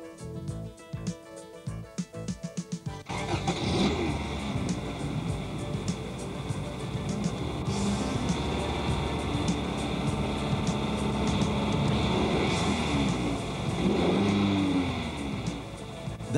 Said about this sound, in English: That engine starting and those lights coming on can be most reassuring